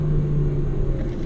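A car engine held in second gear and revved hard through a run of corners, a steady close rumble with a strong low tone that holds level throughout without a break.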